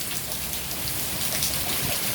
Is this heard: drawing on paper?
no